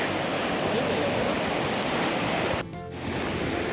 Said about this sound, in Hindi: पानी की धारा बहुत तेज़ है